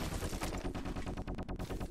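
Gunfire in the battle royale game Apex Legends: a steady, rapid run of shots, loud and close, with no break.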